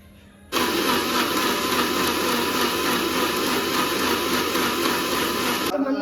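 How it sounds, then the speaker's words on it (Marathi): A mixer grinder grinding spice paste with roasted coconut switches on and whirs at a loud, steady pitch for about five seconds, then cuts off abruptly. "सो आता मी पटकन वाटण काढून घेते"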